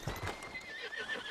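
A horse in the Red Dead Redemption 2 game whinnies faintly over a steady clip-clop of hooves, a quiet, brief burst with no talking.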